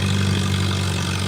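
An antique tractor engine idles at a tractor pull in Troy Township, Ohio, a steady, close, low droning hum with an even throb and no change in pitch.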